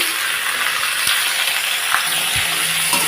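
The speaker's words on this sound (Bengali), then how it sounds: "তো ডাটা আলুটাকে আমি সুন্দর করে ভেজে নিচ্ছি লাল লাল করে" Potatoes fry in hot oil in a pan, giving a steady, close bright sizzle that runs throughout with a few faint clinks and stirring touches.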